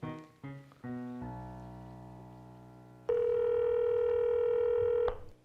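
Mobile phone keypad dialing tones: a quick run of short, clear beeps, then a steady sustained tone for about two seconds that cuts off sharply, with no talk.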